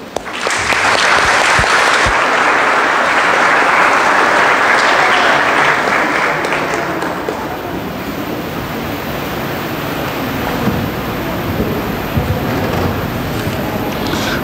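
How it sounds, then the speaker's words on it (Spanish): Loud, sustained applause from a church congregation welcoming newly baptized children at Sunday Mass, steady dense clapping that fills the space for several seconds before slowly thinning out. "La comunidad les recibimos con un fuerte aplauso."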